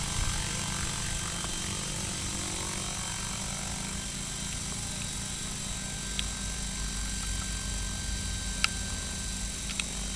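A scale model helicopter flown on a DJI Wookong-S controller hums steadily at a distance, its low rotor drone constant and even throughout, with faint ticks and clicks scattered on top.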